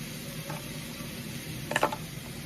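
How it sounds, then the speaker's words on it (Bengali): Spice mix stirred with potatoes and soybeans in a pan for a Bengali vegetarian soybean curry: a soft, steady sizzle with a brief scraping clatter of the spatula near the end. "ভালো করে এটা মশলাটাকে নেড়ে নেবো"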